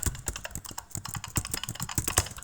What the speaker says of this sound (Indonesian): tinggal kita ketik username-nya misalkan